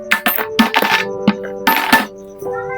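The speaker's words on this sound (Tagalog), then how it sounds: "Itong barya na lang lalagay ko dito sa ano ko." Coins dropped one after another into a piggy bank, several bright metallic clinks and rattles with ringing tones, close and fairly loud.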